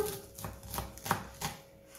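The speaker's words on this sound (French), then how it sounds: "Donc je vais couper juste les racines." Knife chopping through the roots of a bunch of turnip greens on a board, with a handful of distinct cuts spaced unevenly over about two seconds, close and fairly quiet with no talking.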